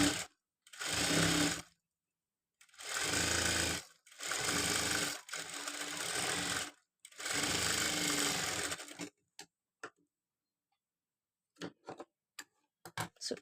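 A sewing machine stitches the side slit of a chudidar top in four loud, close bursts separated by short pauses, followed by a few faint clicks and taps once the motor stops.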